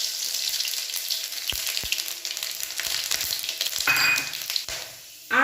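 Dried red chilli and five-spice tempering dropped into hot oil, a close sharp crackling sizzle with scattered pops and stirring scrapes, flaring louder in bursts toward the end.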